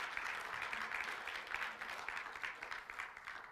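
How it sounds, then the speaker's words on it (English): A church congregation gives a short round of applause during a sermon, a soft, even wash of many hands clapping heard faintly at a distance for a few seconds. "go ahead, give the Lord a clap offering"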